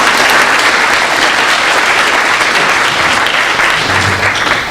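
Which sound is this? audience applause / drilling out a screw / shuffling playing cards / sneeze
audience applause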